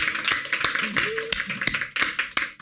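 A comedian claps on a comedy competition show stage: sharp, evenly spaced hand claps, about eight in under three seconds, loud and close over other voices talking.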